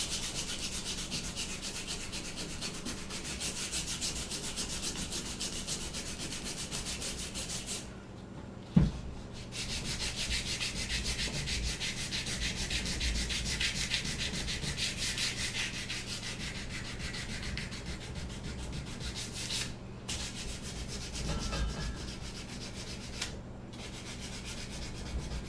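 Coarse 60 grit sandpaper rubs steadily across a wooden gunstock being restored, a continuous scratchy sanding that runs almost unbroken, with a few short pauses and one sharp knock partway through.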